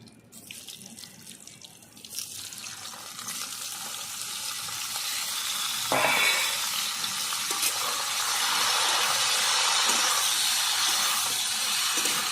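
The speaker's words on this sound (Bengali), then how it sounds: "এবার ফুলকপি ভেজে নেব আমি" Cauliflower pieces frying in oil for an egg curry, a soft hiss that swells into a louder, steady sizzle once the florets go in, with no talking.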